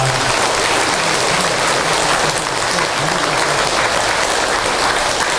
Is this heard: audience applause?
yes